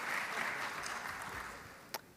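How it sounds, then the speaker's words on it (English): Applause from an audience at a high school armed services award ceremony for a jazz band, moderate clapping that tapers off across two seconds, ending with one sharp isolated clap. "Let's have a round of applause for Lenape High School's jazz band under the direction of Jack Franchi."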